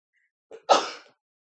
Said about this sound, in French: Maintenant, j'ai envie d'éternuer.